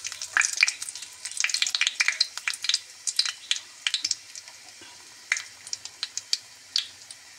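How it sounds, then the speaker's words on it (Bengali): Black cumin and dried chillies crackle in hot oil in a wok, a close burst of sharp irregular pops and spits that thins out to scattered crackles. "কড়াইয়ের মধ্যে আমি তেল গরম হয়ে গেছে, কালো জিরে এই শুকনো লঙ্কা দিয়ে দিলাম।"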